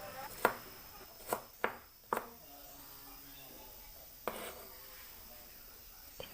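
A knife coarsely slices two smashed garlic cloves on a cutting board, giving a few sharp, close chops at irregular intervals with quieter scraping between.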